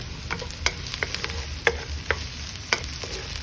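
Tomatoes added to a pan of frying pork and green beans, a soft continuous sizzle with sharp scraping clicks of a utensil stirring at irregular intervals, close by.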